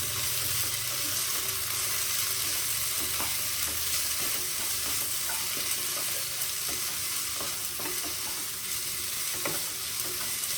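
Mutton being stirred and fried for kosha in a pan, a steady close sizzle with repeated scraping and clinking of the spoon against the pan throughout, no voices.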